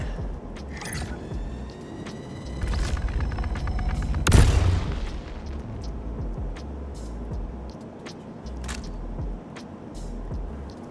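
Charged railgun shots from the Scourge railgun in the space game Star Citizen: a sharp booming blast with a long rumbling tail stands out midway, over steady background game noise and softer distant thumps.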